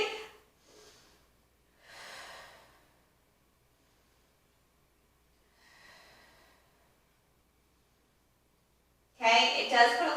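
Close, audible breaths come during a seated stretch, with one hand on the foot and the other on the thigh, easing into the hip and pelvis. Short separate breaths are broken by quiet pauses, and a louder, fuller exhale comes at the end.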